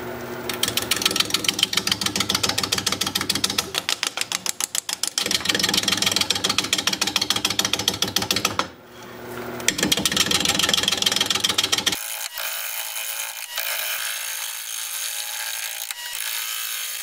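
Wood lathe turning the outside of a wooden cow-face bowl, a loud continuous grinding drone with rapid rhythmic scraping, a brief pause near the middle, then a quieter, thinner whir as the gouge lightens toward the end; no talking.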